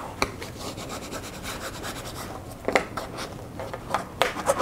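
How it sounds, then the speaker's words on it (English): A bone folder rubs and presses book cover paper over onto board, giving soft, close scraping strokes with a few sharper crisp rubs toward the end and no talking. "with your bone folder, you're going to bring up the excess and turn that in nicely over onto the board into that groove area there"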